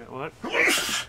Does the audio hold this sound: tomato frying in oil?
no